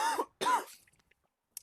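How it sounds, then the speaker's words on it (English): A man coughs and clears his throat twice in quick succession, close and fairly loud, followed by a tiny faint sound and silence. "I apologize for the coughing."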